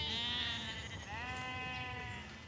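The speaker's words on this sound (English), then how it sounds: "So we've got sheep up there and sheep up there." A sheep bleats in a field where flocks are being herded from the fields back to farms: one long, wavering bleat, close and loud, with a softer second call following.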